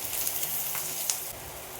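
A spiced mixture fries in a pan with a steady close crackling sizzle, dotted with a few brief louder pops.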